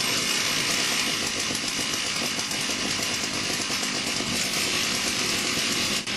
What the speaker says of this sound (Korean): 경주 전에 몇 명이 각각의 체인톱을 하나씩 시동시키는데 이로 인해 점점 커지는 윙윙거림이 귀를 찢는 굉음으로 변합니다